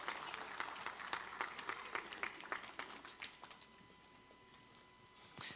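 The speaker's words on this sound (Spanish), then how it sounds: "Ya, un fuerte aplauso." Applause from a church congregation fills the first few seconds as a dense patter of clapping, then thins into scattered claps with a sustained tone beneath and a brief final burst.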